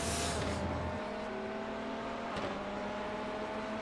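A GTE-class race car in the iRacing simulator at Sebring's 12-hour endurance race drones along at steady high revs, with a sharp whoosh of wind and engine noise at the start before settling into a continuous, even engine tone.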